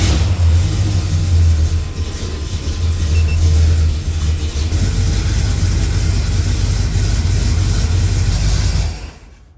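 A FiTech EFI fuel-injected engine runs loud and close, a rough rumbling drone with a surge in the first few seconds, then a steady idle that cuts off near the end.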